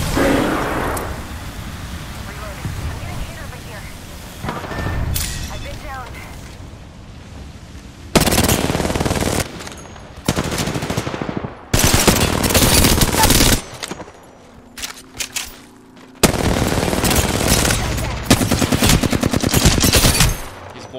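Bursts of gunfire in Apex Legends, loud and close: long sustained automatic volleys alternating with short gaps, over a steady bed of game ambience.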